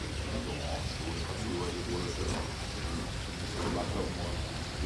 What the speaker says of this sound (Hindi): देख सकते हैं कि कितनी बारिश हो रही है